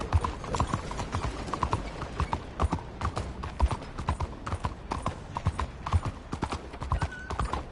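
Horse hooves clip-clop in Red Dead Redemption 2 at a steady trot, close and distinct, with a brief whinny mixed in.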